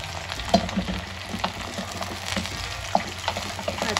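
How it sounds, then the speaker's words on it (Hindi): Sliced okra frying in hot oil, a continuous close sizzle broken by soft stirring clicks and scrapes, with no talking. "इसमें ऑयल में हमने इसको अच्छे से फ्राई करनी है और बस हल्का सा फ्राई करनी है"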